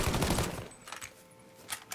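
A shotgun fires buckshot in the video game Mafia III. A loud blast and its rumble open the clip, then fade and leave sharper distant pops, with no one talking.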